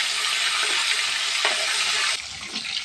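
Hilsa fish head rubbed with turmeric and salt fries in hot oil, giving a loud, steady, close sizzle that drops slightly in intensity near the end, with no talking.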